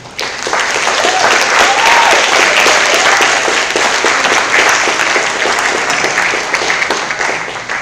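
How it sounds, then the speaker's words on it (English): Audience applause at a general assembly of a veterinary students' congress, a steady, dense wash of many hands clapping that holds for several seconds at full strength, with faint cheering voices mixed in before it tapers slightly. "So maybe just give them one more round of applause because they've been doing an amazing job."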